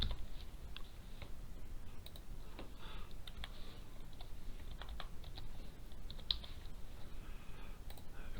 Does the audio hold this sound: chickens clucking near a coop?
no